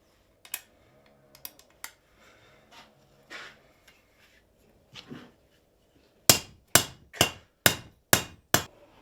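Blacksmith's rivets hammered into hoops on a wooden bucket, with scattered light taps and clicks first, then a rapid run of six hard, ringing metallic blows close up, no talk.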